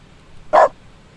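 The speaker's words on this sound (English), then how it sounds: "강아지가 짖어요." A single short dog bark from The Stanley Parable video game, sharp and fairly loud, standing alone over a quiet background.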